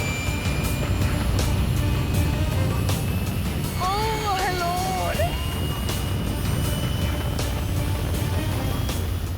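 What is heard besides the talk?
fighter jet flying past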